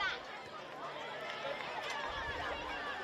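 A crowd at a women's NPL football match between Olympic FC and Brisbane City murmurs and chatters faintly in the background, mixed with nearby talk.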